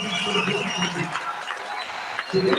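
Crowd noise from a girls' high school basketball game, Pierre T.F. Riggs Governors against Sioux Falls Jefferson Cavaliers, a steady roar of cheering in the gym beneath a commentator's running voice.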